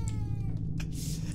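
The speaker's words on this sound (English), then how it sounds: "The black cat approaches." A black cat in the horror game Baby in Yellow lets out a few short, close meows and a drawn-out yowl over a low, steady game-ambience hum.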